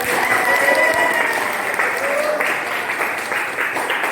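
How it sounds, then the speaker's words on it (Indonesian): A classroom of students claps together in sustained, dense applause for several seconds, loud and close, with some voices mixed into the clapping. "Kasih aplaus."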